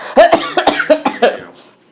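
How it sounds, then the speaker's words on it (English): A burst of several harsh coughs in quick succession, close and loud, trailing off into quiet. "Based off your coughing."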